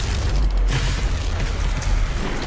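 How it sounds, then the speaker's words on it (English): Turret fire in Doom Eternal: heavy booming blasts and rumbling impacts, loud and sustained over a short burst of in-game combat. "We will go ahead and fire the west turret."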